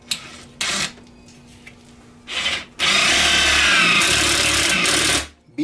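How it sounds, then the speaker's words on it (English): A power drill bores holes for solar panel legs, with short bursts of the motor followed by one sustained, loud, close grinding run lasting a couple of seconds before winding down. "Now we'll drill through here."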